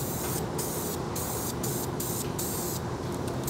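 A steady, continuous hiss of flat black aerosol spray paint on plastic, close and loud, with brief gaps where the nozzle is released and pressed again.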